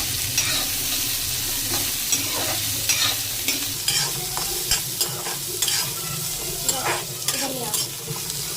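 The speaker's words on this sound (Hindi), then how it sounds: "ये मूंगफली के दाने फ्राई करे जा रहे हैं।" Peanuts frying in a pan and being stirred, a continuous close sizzle broken by repeated scraping and rattling strokes of the spoon against the pan.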